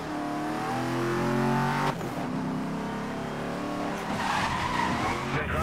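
A Mercedes-Benz SL 65 AMG in the video game Need for Speed Most Wanted skids with loud squealing tires over a revving, roaring engine, continuous and close, with a jolt midway as the slide shifts pitch.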